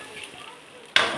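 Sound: pouring mashed dal into sambar in hot pan

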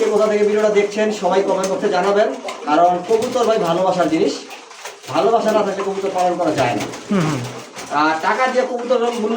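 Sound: pigeons cooing

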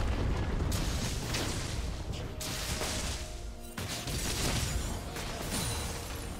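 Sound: turret destroyed explosion in League of Legends video game

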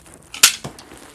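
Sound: toy gun shooting

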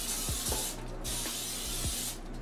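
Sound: butter flavored cooking spray sprayed on air fryer pan

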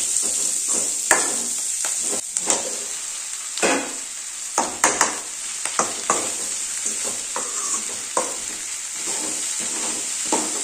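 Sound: okra frying with onion in a pan

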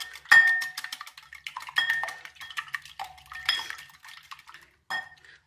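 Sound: eggs being whisked in a bowl

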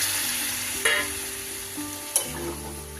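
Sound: water added to frying dried fish curry, sizzling

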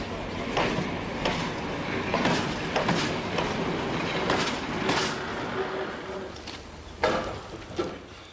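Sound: Trossingen railway glass train shunting

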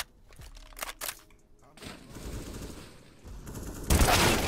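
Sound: gunfire in a video game shooter

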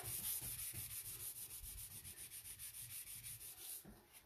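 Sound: sanding off excess wood filler on furniture

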